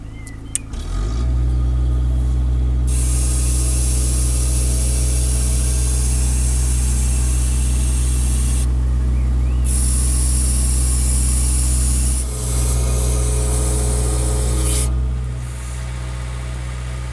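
Engine of a Land Rover Rapid Transit backhoe climbs from idle to a steady high rev, a loud close drone with a brief dip near the end before settling slightly lower.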